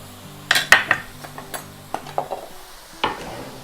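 Mushrooms and sausage going into a pot of Polish bigos hunter's stew, heard as a handful of sharp clinks and knocks of utensils against the pot, close and fairly loud, with quiet gaps between.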